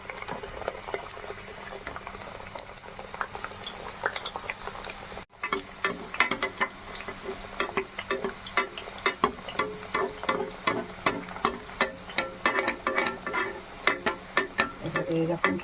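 Ingredients for a Holi sweet dish frying in hot oil in a pan, a bubbling sizzle under repeated rhythmic scraping and stirring strokes that grow busier after a brief pause, close and fairly loud.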